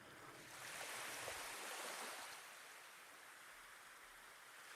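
Ocean waves wash in a soft, continuous surf in the game Himanatsu, very faint and distant, swelling briefly and then settling into a low, even hiss.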